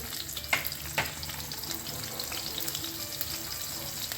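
Cumin seeds and green chillies frying in hot oil as the tempering for fasting noodles, a steady close sizzle with a couple of sharp pops near the start.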